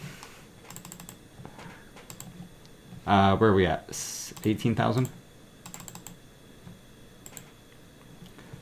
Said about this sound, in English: All right, keyboard.